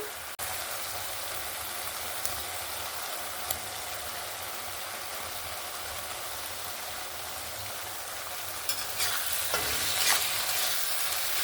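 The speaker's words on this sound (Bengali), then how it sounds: "মশলার সঙ্গে একটু ভালো করে মিক্স করে নেব।" Fried bitter gourd and eggplant stirred into frying masala, a steady hissing sizzle throughout with occasional faint spoon taps, growing slightly louder toward the end.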